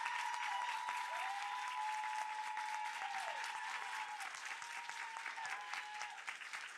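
A crowd in a large room applauds a panel of lawmakers, a sustained, fairly faint wash of clapping with a steady tone ringing beneath it throughout.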